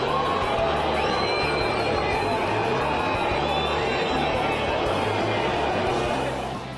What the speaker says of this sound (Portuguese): Vaias que viraram grito de gol aos 49 minutos